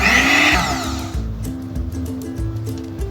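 An electric mixer whirs loudly through cake batter of oil and milk for a fruit cake, its motor droning steadily before cutting off partway, after which quieter clicks and faint rattles remain.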